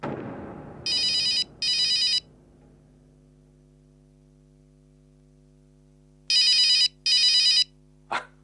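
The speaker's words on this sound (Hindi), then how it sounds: "फोन बज रहा है आपका।" A telephone ringing indoors, two pairs of electronic trills separated by a long quiet gap, fairly loud and close, followed by a short click at the end with no talking.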